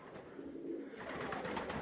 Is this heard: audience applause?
no